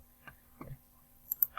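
Computer keyboard keys are pressed for shortcuts in a quiet room, a few sparse, close clicks with a quick pair of taps near the end.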